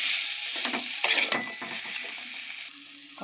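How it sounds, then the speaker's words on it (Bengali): Boiled potatoes sautéing in a pan for a home-style potato curry, with a soft steady hiss and scattered scraping, clattering stirs, one sharper knock near the middle, close and without talk. "ভালো করে কষাবো"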